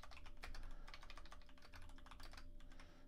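Steady, rapid clatter of typing on a computer keyboard, close and continuous throughout with no talking, during Go programming work on a blog's front-matter parsing.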